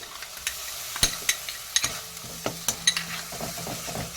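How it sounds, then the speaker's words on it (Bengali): Tomato paste sizzling in a spice masala on medium flame, stirred steadily with a spoon that scrapes and taps the pan in irregular clicks over a continuous low fry, close and fairly quiet, with no talking. "একভাবে সমানে মশলাটাকে কষিয়ে নিতে হবে নাহলে মশলাটা কিন্তু ধরে যাবে"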